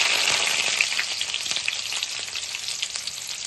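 Chopped green chillies sizzle and crackle steadily in hot butter in a pan, a close, continuous frying hiss with faint stirring clicks, no voices.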